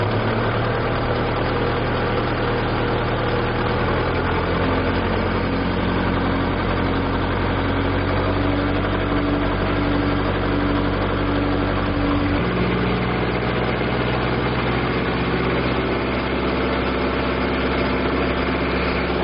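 A tractor engine, one of a Kubota MU 4501, John Deere 5045D or Mahindra, runs at raised RPM, giving a loud, steady diesel drone with a deep low rumble. The pitch shifts slightly partway through, and no one speaks.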